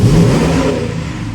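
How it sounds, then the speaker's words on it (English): A GMC engine revs hard toward wide-open throttle during a relearn procedure, a loud close roar that swells briefly and then eases off within about a second. "Accelerate to wide open throttle. Release once fuel cutoff occurs"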